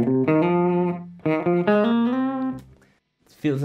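An electric guitar plays a short melodic phrase of sustained notes thickened by a short analog delay effect from a Donner Yellow Fall pedal, then fades to near silence before another note.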